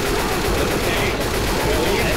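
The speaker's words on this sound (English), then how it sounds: "I gotta shoot this boomer before any" Dense, loud gunfire in Left 4 Dead 2 aimed at a Boomer: rapid sustained shots blending into a continuous burst of firing throughout.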